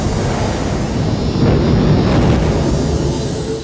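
A deep, continuous roaring rumble like a massive explosion fills the soundscape for a supernova of a white dwarf star, loud and sustained with a slight swell in the middle.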